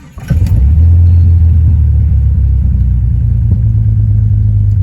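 A 2000 Jeep Grand Cherokee engine idles steadily after a coil pack swap and spark plug reinstall, starting up with a brief rise and then settling into a loud, even, low rumble.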